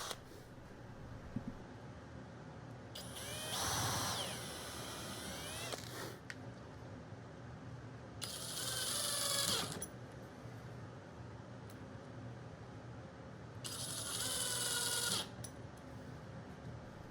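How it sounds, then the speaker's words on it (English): Power drill driving exterior rated screws into the wooden joints of a DIY bucket planter, three separate whirring bursts of one to two seconds each with rising pitch, separated by quiet background hum. "I go back and I strengthen all of the joints with exterior rated screws"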